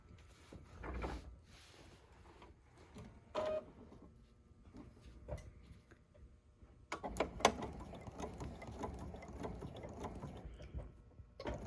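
A sewing machine stitches straight along a marked line on a 1930s-style Mariner's Compass sampler quilt block, running in uneven bursts of mechanical whirring and clatter, louder in the later part, with no talk.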